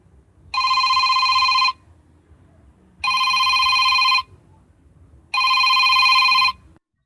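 A telephone bell rings three times in long, even bursts separated by short silences, loud and close, with no voices.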